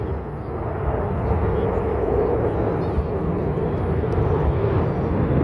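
Blue Angels solo jets sit on the runway beginning their takeoff, a loud, steady roar of jet engines with broadband rumble building slightly and holding throughout.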